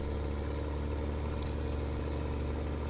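Tractor engine in Farming Simulator 15 running steadily at a low idle, a continuous mid-low hum with a slight knocking pulse, fairly quiet and alone without any talk.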